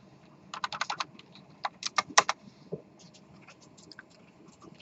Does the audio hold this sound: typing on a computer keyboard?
yes